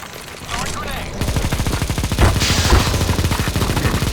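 Rapid gunfire in the CSGO Zombie Escape game on the ze_avalanche_reboot_k map rattles continuously and loud, with a player talking over the shooting.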